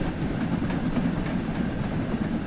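An LMS Fowler 4F steam locomotive hauls a freight train uphill on the West Somerset line, a steady heavy rumble of wagons and rail noise throughout, with no speech.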